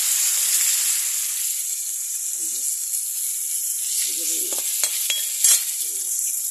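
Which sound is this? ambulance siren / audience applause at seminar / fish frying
fish frying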